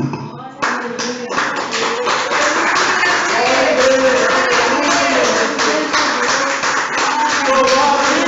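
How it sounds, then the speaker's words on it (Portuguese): A church congregation claps hands loudly and continuously in a fast, dense rhythm, with voices and music mingling underneath throughout. "Às vezes está faltando só aplaudir assim."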